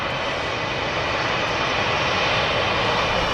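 At the Manchester Airport runway visitor park, aircraft engines give off a steady, loud, broadband roar that holds without a break for a few seconds.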